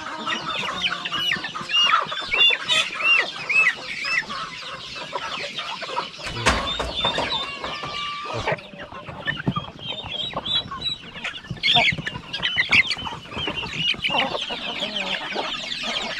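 Hens and small chicks cluck and peep inside a farmyard coop, with a steady chorus of chirps and clucks, close and fairly loud, and brief handling noise partway through.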